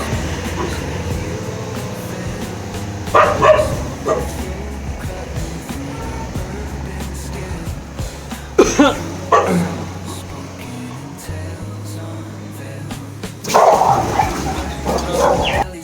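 Street dogs barking at feeding time, a few sharp barks in short bursts over a steady rumbling background, with scattered voices nearby.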